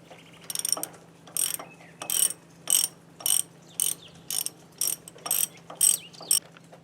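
A ratchet loosens a long half-inch starter bolt on an old Craftsman lawnmower, with about a dozen evenly spaced bursts of quick clicking, close but fairly quiet, and no voices.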